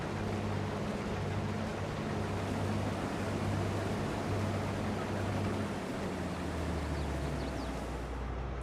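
In Farming Simulator 22, a tractor moves along with a steady low droning engine hum and broad continuous noise, fairly loud and unbroken, with no talk over it.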